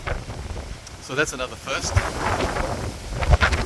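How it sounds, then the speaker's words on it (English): Gusty wind buffets a microphone outdoors in a Queensland winter, rumbling in uneven bursts under a person speaking briefly. "Yeah, it's that windy."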